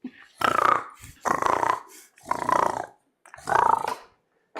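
A person imitates a dog's growl in four rough, drawn-out snarling bursts separated by short pauses, close and fairly loud.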